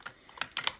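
A few quick papery riffles and soft snaps of tarot cards being side-shuffled, close by, in brief bursts with short pauses between.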